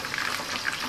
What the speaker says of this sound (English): So now we're just going to fry that lightly.